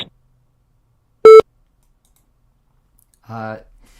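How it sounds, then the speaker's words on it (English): Voicemail system recording tone: a single short electronic beep sounding alone, followed a couple of seconds later by a brief fragment of a voice. "At the tone, please record your message."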